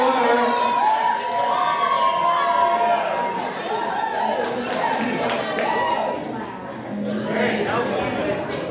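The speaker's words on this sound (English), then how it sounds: "Big cheer for the Maid of Honor." A wedding reception crowd at Imperial Design Hall cheers for the maid of honor, a loud swell of shouts, whoops and chatter that carries for several seconds before easing, with scattered clapping and voices mixed in.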